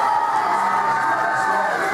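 Loud, continuous cheering, whoops and yells from a wrestling crowd celebrating Karl McKaigue's All Ulster Championship win, a dense wall of voices held for the full stretch.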